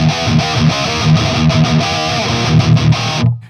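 Heavily distorted metal electric guitar played through an amplifier with no boost pedal engaged, loud chugging palm-muted riffs with rhythmic gaps, alone and ending abruptly near the close.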